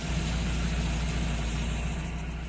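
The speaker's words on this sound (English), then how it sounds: "the car is idling right about 900" A Nissan 240SX engine idles around 900 rpm with a misfire, a steady low rumble with a faintly uneven pulse, close and continuous with no talking.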